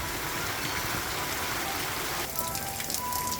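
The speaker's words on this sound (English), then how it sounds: "Sound of the rain is coming down." Rain pours down in a continuous, rushing hiss of drops on surfaces. The texture thins and sharpens partway through, with a few brighter spatters standing out near the end. No one speaks.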